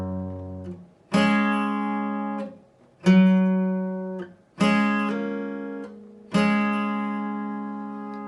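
A guitar plays a slow verse passage, with four plucked notes or double-stops struck about two seconds apart, each ringing and fading in close, clean tone with no voices.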